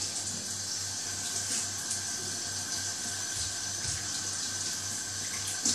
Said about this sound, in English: and wash your hand off.